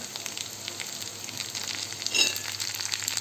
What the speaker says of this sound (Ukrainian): Цибулька вже обжарилась, тепер ми викладаємо сюди наверх наше раніше обшмажене м'ясо.